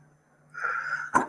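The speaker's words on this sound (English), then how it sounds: "Ooh, that was a big sneeze." A single big human sneeze, starting as a rising breathy build-up and ending in a sharp, loud burst, close to the listener over faint background hum.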